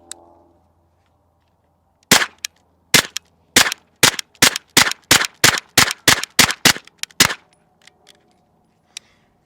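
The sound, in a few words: B&T TP9 firing SuperVel 115 grain rounds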